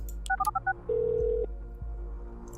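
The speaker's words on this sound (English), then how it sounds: "Victor Rosen is on the phone." Telephone keypad tones in the surveillance video game Orwell: a quick run of short dialing beeps followed by a longer held tone, clear and close with no voices.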